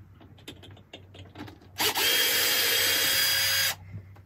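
A handheld power drill backs a screw out of a wooden laptop stand in one steady, loud whirring burst of about two seconds, with quieter workshop handling sounds before and after.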